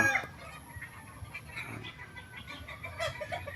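Many chickens of several different breeds cluck and call from a farm yard, with a scattered mix of short, mid-distance clucks and bird sounds over a low, busy background.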